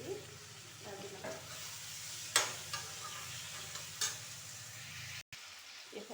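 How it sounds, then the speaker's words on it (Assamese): Pork pieces fry in a pan with tomato, salt and turmeric, giving a quiet, steady sizzle with a few sharp utensil clicks against the pan, heard close and alone. "এতিয়া ইয়াত মাংস কেইটুকুৰ দি ভাজি ল'ম"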